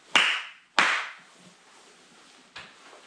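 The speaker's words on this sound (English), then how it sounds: "let me clap the lights off" Two sharp hand claps in quick succession, followed a couple of seconds later by a softer third snap, in a quiet room used to switch off the lights during a winter stay in Alaska.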